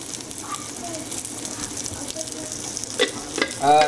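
Ground spices, coriander powder and garam masala among them, hit hot oil with a soft steady sizzle, broken by a few louder stirring scrapes near the end.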